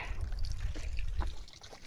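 Water runs and trickles at an old house in Mandi, Himachal Pradesh, a close, steady babble with small splashes over the whole short stretch, with no talk.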